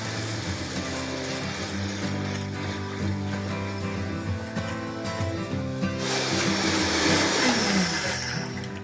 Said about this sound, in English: So just go ahead and get a preliminary blend going on